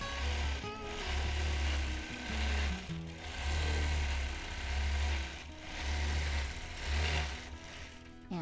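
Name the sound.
sewing machine free motion quilting until bobbin thread runs out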